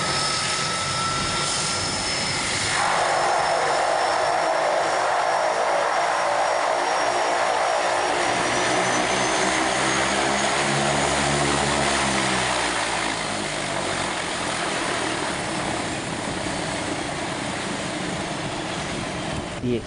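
A loud turbine Otter floatplane engine drones steadily, its pitch shifting as the plane passes close, with wind and a faint voice underneath.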